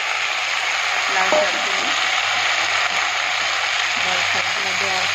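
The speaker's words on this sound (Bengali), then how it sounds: "শাকগুলো দেওয়ার পর হালকা করে একটু নেড়ে নিচ্ছি" Red amaranth greens stir-fry with garlic in a hot kadhai, a loud continuous sizzle with stirring scrapes close up, while a voice talks faintly underneath.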